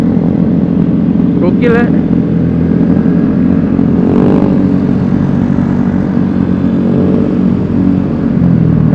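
A Vespa Sprint 150 scooter cruising on a morning ride around a city roundabout, its engine droning steadily and loudly with rushing wind throughout, while a rider briefly talks over it.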